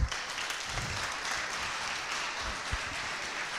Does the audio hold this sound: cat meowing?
no